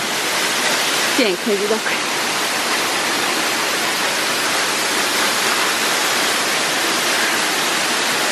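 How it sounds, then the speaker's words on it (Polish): Giessbach waterfall in Brienz, Switzerland roars as a loud, steady broadband rush heard from close by, with someone speaking briefly over the constant flow near the start. "wodospad mam z tej strony. Bardzo blisko."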